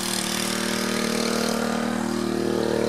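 A motor-driven pump drones loudly and steadily as its load drops off and it begins cavitating, giving a continuous rough hum with a faintly fluttering texture.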